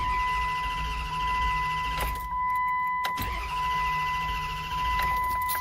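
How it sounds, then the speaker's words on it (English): Cranking a 2004–2009 Dodge Durango that won't start: the starter churns in long, even stretches separated by brief pauses, with clicks between attempts and no engine catching. "Let's try to crank it up."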